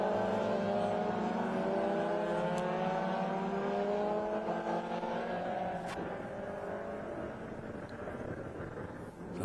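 Race cars lap a circuit at the 2023 Sydney Masterblast, their engines a continuous, layered drone whose pitch keeps rising and falling as the cars accelerate and brake. The sound stays fairly even in loudness throughout.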